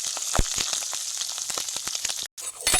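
Hibiscus flowers and other ingredients fry together in oil until they turn black, making a steady, close bubbling sizzle with brief crackles and a momentary drop before the frying resumes.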